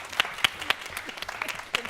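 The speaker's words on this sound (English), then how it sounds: "Clap your hands together." A small audience claps sparsely for a panel at an advertising event, a few distinct hand claps spaced out over a couple of seconds rather than sustained applause.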